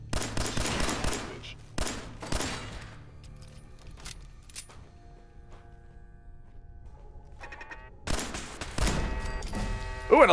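Gunfire in the video game Fallout 4 from a turret: bursts of rapid shots at the start and again near the end, separated by quieter stretches with scattered single reports.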